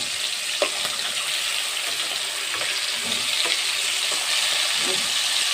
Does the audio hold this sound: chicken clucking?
no